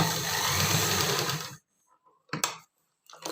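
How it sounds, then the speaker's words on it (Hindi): A sewing machine runs fast, stitching over elastic on palazzo pants, a close, steady whirring hum for about a second and a half that stops abruptly, followed by a few short bursts of handling and machine noise. "पहले मैं लास्टिक पे ही मशीन चलाऊंगी"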